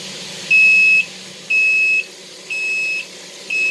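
A kitchen timer goes off after chicken wings have boiled in a pot for ten minutes, giving four loud, evenly spaced half-second beeps about a second apart, with no talk.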